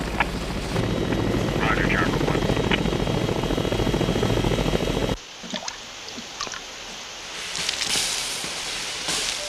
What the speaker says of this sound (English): Salt Lake City, this is Chopper 1. We have refueled and are back in the air.